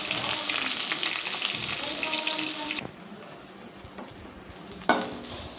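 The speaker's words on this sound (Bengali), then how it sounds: "তার জন্য একটুখানি বেগুন ভেজে নিলাম।" Brinjal (eggplant) slices fry in a pan, giving a steady broadband sizzle that cuts off partway through, followed by quieter kitchen ambience and a short sharp clatter near the end.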